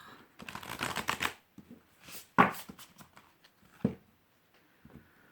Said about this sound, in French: Je tirerai quand même, je pense, une carte des anges pour voir.